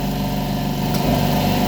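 A second motor of an SGCB sggf188 air compressor kicks in alongside the first, and the steady droning hum shifts and thickens with a small jolt midway, close and loud, with no speech.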